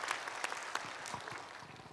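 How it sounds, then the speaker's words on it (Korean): Congregation applause welcoming a guest at a Korean church early-morning prayer service, a fairly faint, scattered patter of many hands clapping for about two seconds, thinning toward the end. "박수로 우리 환영하겠습니다"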